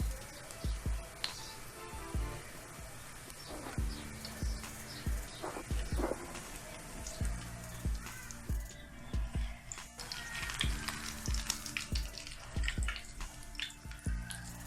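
Bread omelette frying in oil on a hot street-food griddle, a steady bubbling sizzle with scattered sharp pops and spatula taps, close and fairly loud throughout, no talking.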